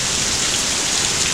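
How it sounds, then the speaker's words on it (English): Heavy rain from the outer bands of Hurricane Delta falls steadily, a dense, even hiss of drops on surfaces close by, with no break across the short stretch. "y'all probably hear in the background the rain's increasing"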